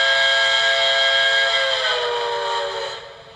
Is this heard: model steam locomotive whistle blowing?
yes